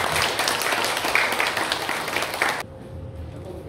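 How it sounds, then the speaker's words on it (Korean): Audience applause at a senior citizens' college lecture in Korea, a steady broadband clapping that fills the room for over two seconds and then cuts off abruptly, leaving quiet room tone. "특강을 준비해 주신 김영식 노인 지도자 대학장님을 여러분 큰 박수로 청해주시기 바랍니다."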